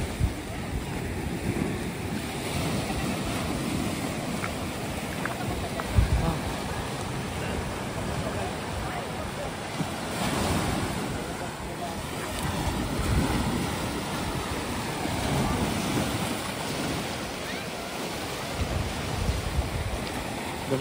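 Ocean waves wash steadily into a sandy cove at high tide in Kynance Cove, England. The surf rumbles continuously, with wind buffeting the microphone. There is no clear speech.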